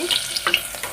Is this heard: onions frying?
yes